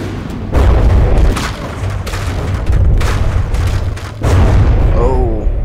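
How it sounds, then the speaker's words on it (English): Nuclear shells strike a fortified tower in the From the Depths game, with heavy, rumbling blasts landing in a few powerful bursts under a continuous roar, while a voice talks over the action. "there goes another nuke landing. Yeah, totally blown out the bottom of the tower"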